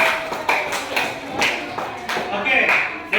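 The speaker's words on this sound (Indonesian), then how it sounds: "Tepuk tangan untuk semuanya." Clapping in a classroom at the end of a lesson, a loose run of separate claps and taps for about three seconds with voices mixed in, moderately loud and close.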